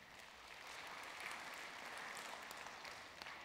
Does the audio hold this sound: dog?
no